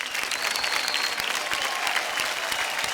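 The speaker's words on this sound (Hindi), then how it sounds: "जो लिज ने costumes डिज़ाइन किए, इसके लिए ज़ोरदार तालियाँ" Loud, sustained applause from a television dance-show audience, cheering on the costumes designed for a performance; dense continuous clapping fills the whole stretch with a steady crowd roar.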